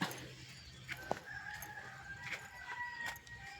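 Chickens clucking and crowing nearby, a few scattered calls over a quiet outdoor background.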